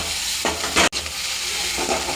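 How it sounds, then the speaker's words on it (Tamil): Gram flour being stirred with onion and capsicum in a hot pan, a loud close sizzle broken by bursts of spatula scraping, one sharp knock and a brief pause in the middle. "நல்லா மிக்ஸ் பண்ணி விட்டுக்கலாம்."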